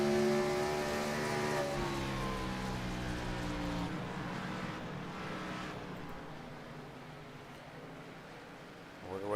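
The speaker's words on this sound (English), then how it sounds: "Hear him burping the gas, trying to keep the car from getting upset." A race car in the Thunder Series at Rockingham revs through a corner as the driver blips the throttle, its rising and falling engine note loud at first, then fading.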